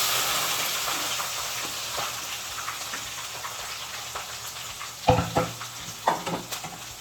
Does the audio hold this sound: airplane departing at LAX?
no